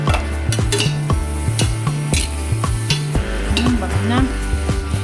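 Pansit noodles being stirred in a pan with a steady run of scraping strokes against the metal, close and fairly loud, over a soft sizzle of frying.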